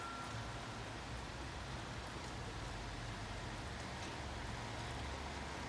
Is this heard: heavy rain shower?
yes